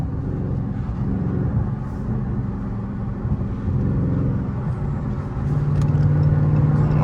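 A Dodge Charger Scat Pack cruises down the highway, its engine a steady low rumble blended with road and tire roar that swells slightly toward the end, with no voices.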